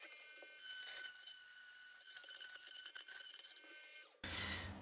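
A Dremel rotary tool cuts a hole in the chassis of an RC Jeep, a loud, steady high-pitched whine with grinding flutter that stops abruptly near the end.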